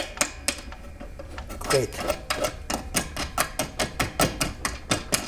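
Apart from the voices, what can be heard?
metal can and bolt being put in place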